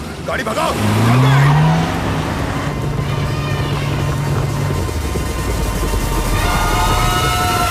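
A car engine roars close by and pulls away, the rising tone shifting as it speeds off, with shouting voices over it throughout.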